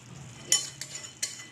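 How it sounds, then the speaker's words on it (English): Cauliflower and spinach with garam masala being stirred in a kadai: a few distinct scraping strokes of a utensil against the pan, each a brief rasp, over a faint low sizzle. "Let's mix it well along with the garam masalas, cauliflower, our beautiful green nice spinach leaves."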